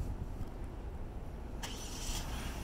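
A 2018 Genesis G80 Sport starts by remote through a Compustar PRO T12 system: a low steady engine rumble with a brief higher whir as it catches, heard close with no talk.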